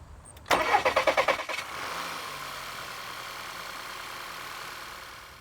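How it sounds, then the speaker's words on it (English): An Audi Q3 engine cranks with a quick rhythmic stutter, catches, and settles into a steady idle. "turn the engine on"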